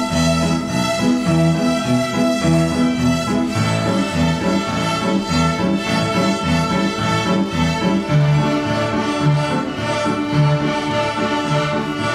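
Year 3 pupils at a prep school play a tune together on violins, a loud, steady group performance with a bouncing rhythm of repeated bowed notes that carries on throughout.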